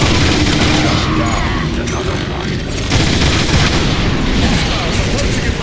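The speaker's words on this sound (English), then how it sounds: "Spectrum missiles deployed!" Missile launches and explosions in the Transformers: War for Cybertron video game, a dense continuous barrage of booms and firing with game voices heard over it.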